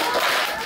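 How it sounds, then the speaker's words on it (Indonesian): A group of children clap their hands together in a quick, dense burst, loud and close, filling the whole brief moment. "Tepuk 2."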